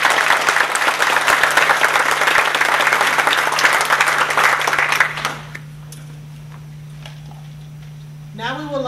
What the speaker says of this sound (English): Could we give him another round of applause?